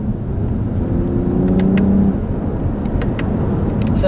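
Engine of a 2019 Lexus ES 350 F Sport driven with manual gear shifting, a steady, loud drone with a rising tone briefly swelling midway, heard from inside the cabin with no talking.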